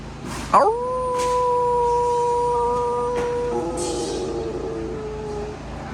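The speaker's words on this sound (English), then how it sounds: "it works against werewolf howling" A long, rising howl, dog-like and mournful, swells up and holds steady in a wavering, sustained tone, with a second voice joining partway through and layered pitches continuing to the end.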